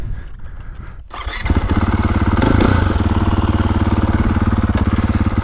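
A 2024.5 KTM 450 Factory Edition dirt bike engine fires up after a brief clatter, then settles into a loud, steady, close idle with an even rapid thump and a short rev swell midway.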